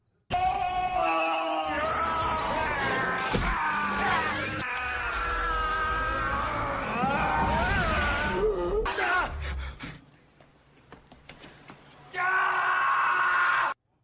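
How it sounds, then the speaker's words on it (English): A drawn-out, strained movie-style scream from an Arnold Schwarzenegger montage sound effect, loud and sustained, followed by a quieter gap and then a final burst of yelling. "I'm giving it the Arnold scream."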